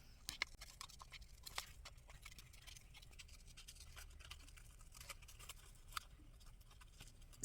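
Scissors snipping through paper pictures while setting up a bullet journal, a quiet run of irregular small cuts and crisp rustles with a few sharper snaps, close and faint.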